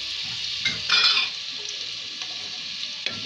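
Onion and garlic frying in ghee in a pan for kofta balls in tomato sauce, a bright steady sizzle with a few stirring scrapes and clacks, close and loud, and no voices.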